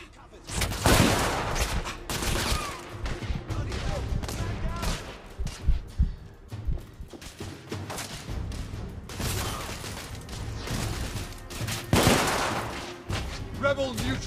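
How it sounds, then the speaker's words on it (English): Repeated gunfire bursts and heavy shots fill a firefight in the video game The Order: 1886, loud and close over a busy mechanical background, with voices now and then in between. "I'm taking heavy fire."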